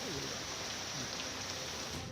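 Heavy rain pours down in a steady, dense hiss of drops striking surfaces, constant and fairly loud with no breaks.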